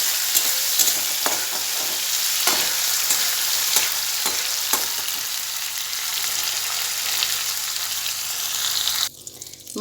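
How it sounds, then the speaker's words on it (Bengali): Prawns fry in a pan with a steady close sizzle, punctuated by several sharp clinks and scrapes of a spatula stirring, before the hiss cuts off abruptly near the end; no talking. "মেয়েটার জন্যে কটা চিংড়ি মাছ ভেজে রাখছি"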